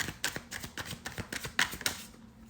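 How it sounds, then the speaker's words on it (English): Tarot cards shuffled close up, a series of light, irregular papery taps and flicks as the deck is split and cards slide through, fairly quiet and alone. "I usually kind of split the deck and then I shuffle one card and see what pops out"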